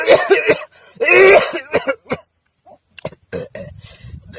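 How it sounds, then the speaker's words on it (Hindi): A person coughs repeatedly in harsh, close bursts, with a couple of long hacking coughs followed by shorter broken ones and some throat clearing. "मोला खांसी हो गया"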